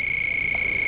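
A quiz-show contestant buzzer sounds as a steady electronic tone with strong high harmonics and a rapid pulsing flutter, loud and alone for under a second.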